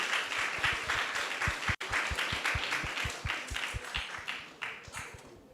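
Applause from a temple audience after a Bhagavad Gita lecture, many hands clapping steadily at moderate distance, with a clear rhythmic pattern of individual claps running through the whole stretch and one brief dropout partway.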